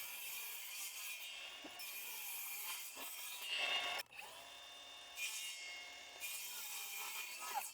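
Wood is sawn through along a marked line while a cheap folding workbench is built, giving a continuous close rasping cut with a brief pause midway and a restart.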